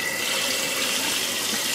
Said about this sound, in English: just by doing a simple rinse